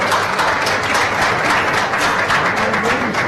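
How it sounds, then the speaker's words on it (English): Round of applause for prize winners at a social impact summit, a loud, dense wash of clapping that stays steady for a few seconds. "Give a round of applause."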